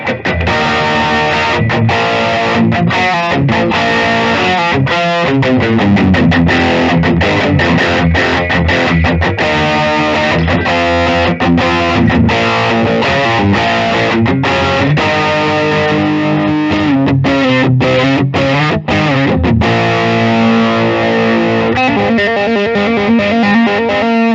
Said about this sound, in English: Now let's try some distortion.